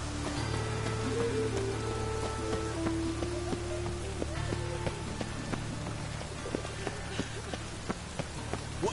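Rain falling in the video game The Witcher 3, a quiet, steady patter on surfaces. Faint tonal game sounds and scattered drips sit above it.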